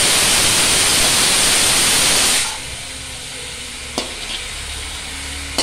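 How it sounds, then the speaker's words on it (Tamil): Boiled cabbage is tossed into hot tempering oil for cabbage poriyal, giving a loud, dense hiss for about two seconds that drops away to a faint background with a single sharp clink. "வெந்த முட்டைக்கோஸ் எடுத்து இந்த தாளிப்பில் போட்டு ஒரு நிமிஷம் நல்லா வதக்கணும்"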